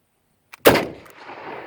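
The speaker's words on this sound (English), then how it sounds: "So I'm going to give it a shot down range here and see what happens." Single sharp gunshot from an old 6.5 Carcano rifle fired downrange, a loud close crack with a faint click just before it and a short echoing tail afterward.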